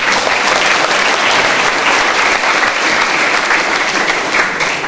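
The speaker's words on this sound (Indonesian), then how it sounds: "Sekali lagi tepuk tangan untuk semua orang Lombok." Applause from an audience at a book discussion event in Lombok, a loud, dense and steady clapping that fills the room without speech.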